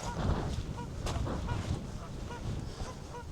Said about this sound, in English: Geese don't know what to do.